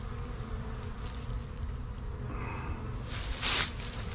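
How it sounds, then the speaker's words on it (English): Honey bees buzz steadily around an Apimaye hive during a winter oxalic acid wand treatment, a continuous close hum with a louder, brighter swell near the end. "obviously bees going all over the place"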